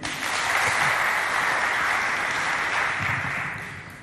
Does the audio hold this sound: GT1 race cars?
no